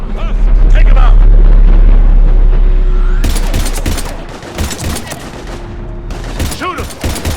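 Mass Effect 3 gunfire crackles in dense bursts through a heavy, booming battle mix, very loud at first and then broken into sharper volleys, with voices shouting in between.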